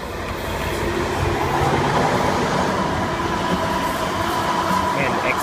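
An XP2000 passenger train passes close by at East Maitland near Pitnacree Road, a loud, steady rumble and rush of wheels and engine that fills the whole stretch without a break.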